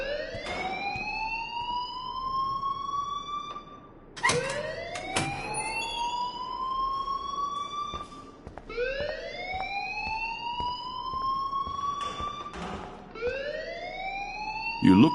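Loud electronic alarm in the video game Life is Strange, sounding as repeated rising whooping wails, four cycles each about four seconds long, steady and close with faint background noise beneath.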